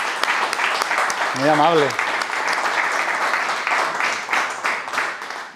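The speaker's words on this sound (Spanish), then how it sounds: "Hoy un fuerte aplauso" Audience applause fills a book presentation hall, steady broadband clapping from a crowd throughout, with a brief spoken voice partway through.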